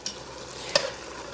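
Meat for lasagna browning in a frying pan, stirred with one sharp scrape or clack near the middle over a soft, steady sizzle; no one talks.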